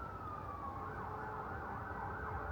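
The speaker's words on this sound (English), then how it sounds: "there is sirens going off in the background" Emergency sirens wail continuously in the distance over a low outdoor rumble at a reputedly haunted location in Sheffield, faint and steady with a rising and falling tone.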